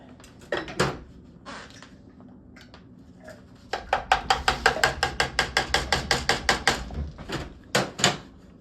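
Ratchet wrench on a bolt of Kawasaki KX100 dirt bike engine cases during a rebuild: scattered clicks, then a long run of rapid, evenly spaced ratcheting clicks, close and crisp, with a few final strokes.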